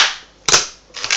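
Latex balloon bursting during balloon sculpting of a cat figure: one loud sharp pop in the middle, standing out alone against a faint background hiss, with a smaller burst of noise near the end.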